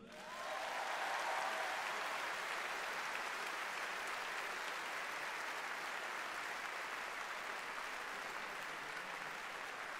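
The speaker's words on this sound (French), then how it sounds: "vous avez juste ici 4 grandes figures de cette Reconquête que je vais vous demander d'applaudir" A crowd at a political anniversary rally of the Reconquête party breaks into sustained applause, a broad, even roar of many hands that swells in quickly and holds steady at full strength throughout.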